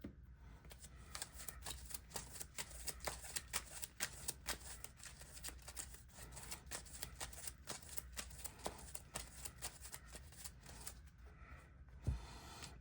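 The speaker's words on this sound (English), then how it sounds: "shuffle all the adaptoid minion from the discard pile back into the deck" Physical game cards from a Marvel Champions board game are shuffled back into the deck, a quiet, steady run of rapid riffling flicks lasting several seconds, close up with no talking.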